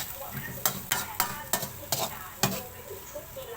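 Mussels being stir-fried in oil in a pan, with a soft background sizzle broken by about half a dozen sharp scraping clacks of a spatula stirring against the pan at an uneven pace.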